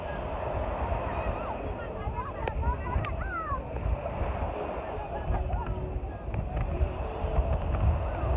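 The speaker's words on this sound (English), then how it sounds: "watch the waves crashing" Waves crash and wash along a Jamaican beach in a steady broadband roar, buffeted by wind noise on the microphone, with faint voices and other beach sounds in the background.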